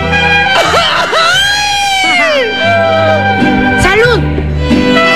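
A long, wavering Mexican grito shout rings out over a mariachi band, the voice rising and falling in loud cries while the music carries on steadily underneath.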